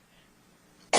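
A single short, harsh cough bursts out at the end after near silence, close and loud, during a live radio talk show broadcast.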